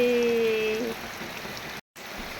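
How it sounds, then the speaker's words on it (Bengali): Rain falls steadily outside a home in Delhi, a dense, even hiss that fills the whole clip, with a brief tonal hum early on and a short dropout near the end. "বৃষ্টি হচ্ছে শোনা"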